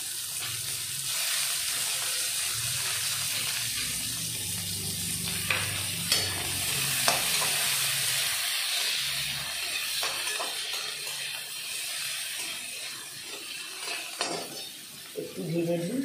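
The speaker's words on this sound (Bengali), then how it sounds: "একটু ভেজে দিই।" Onions and mango pieces frying together in a pan, a steady close sizzle with occasional clinks of a spoon against the pan and faint background voices.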